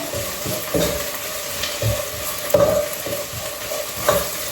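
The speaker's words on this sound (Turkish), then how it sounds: "Tel şehriyeyi de önce kavuruyoruz öyle." Tel şehriye vermicelli noodles toasting in a pan, with a steady close sizzle and repeated scraping stir strokes about every second, no talk.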